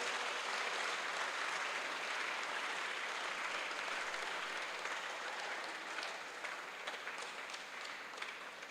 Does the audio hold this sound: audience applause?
yes